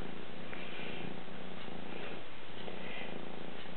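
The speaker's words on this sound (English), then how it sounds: "Not sure if you can hear the purring going on from this super duper purring machine" Steady, close purring of a Maine Coon kitten runs throughout, a soft continuous rumble with gentle rhythmic pulses and no voices.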